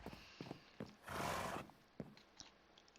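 A horse in a Minecraft stable gives a loud, rising whinny lasting about half a second in the middle, with soft clip-clop hoof taps before and after it.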